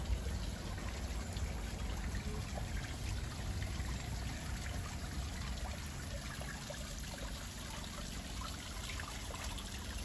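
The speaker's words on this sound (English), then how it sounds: "This stunning little water feature here," Water trickles steadily in a small garden water feature among ferns and exotic plants, a soft continuous pouring and dribbling heard close and fairly faint with no voices.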